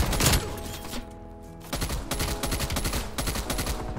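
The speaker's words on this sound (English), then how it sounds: "Who's shooting me?" Automatic weapon fire from a KSP 45 in a Call of Duty match, loud close bursts of rapid shots rattling over the game's background sound, with no talk.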